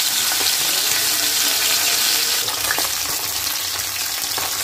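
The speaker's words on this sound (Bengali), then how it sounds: "তো আমি এবার মাছগুলো ছেড়ে দেব, মাছগুলো ছেড়ে দিয়ে ভেজে তারপরে তুলে দেখাচ্ছি।" Koi fish fry in hot mustard oil in a pan, a loud, dense, continuous close sizzle and crackle, with no talk over it.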